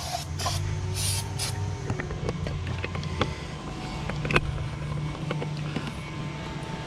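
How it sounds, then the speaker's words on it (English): Brake parts cleaner sprayed onto the brakes of a 2012 Volkswagen CC outdoors: a continuous close aerosol hiss with brief louder bursts at the start, over a steady background hum. "He's still gonna clean that up with some brake parts cleaner."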